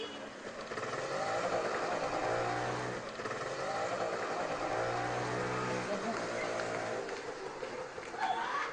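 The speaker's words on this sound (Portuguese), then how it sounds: "2 homens chegam de moto em uma casa por uma estrada de terra." A motorcycle rides along a dirt road toward a house in Loutolim, Goa, its engine droning steadily at a moderate distance for several seconds before fading near the end.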